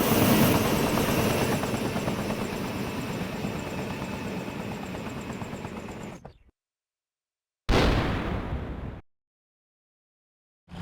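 A helicopter in the video game DayZ roars with steady rotor thumping, loud and close for about six seconds, cuts out abruptly, then briefly returns before going silent again.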